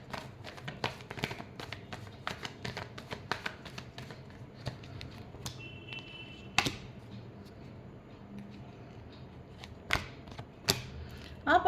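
Tarot cards shuffled close by in a quiet room: a run of sharp, uneven taps and papery clicks, with a few louder snaps scattered through.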